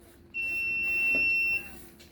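A house alarm built on a Raspberry Pi and triggered by an ultrasonic sensor gives a single steady, high electronic beep that lasts just over a second before cutting off, loud and clear in a quiet room.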